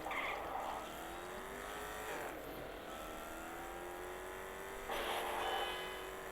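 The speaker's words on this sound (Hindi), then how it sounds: "बड़ी ही रैश ड्राइविंग हो रही है भाई यहाँ पे" Reckless car driving in Gangstar Vegas: engines whine and shift pitch as vehicles swerve, with a squealing tire skid at the start and another near the end, moderately loud over steady traffic noise.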